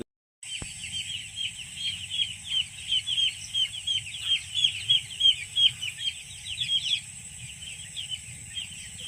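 A flock of small broiler chicks clucks and peeps in a steady chorus over a constant low mechanical hum in a poultry farm, the calls rising and falling rhythmically.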